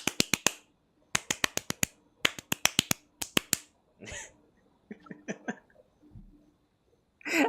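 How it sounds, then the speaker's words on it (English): Kids clap in unison, sharp crisp hand claps in tight synchronized bursts of four or five with short pauses between groups, followed by scattered softer sounds and a brief voice. "The clapping noise, man!"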